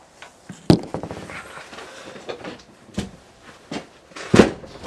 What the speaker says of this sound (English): the door might be locked, hold on.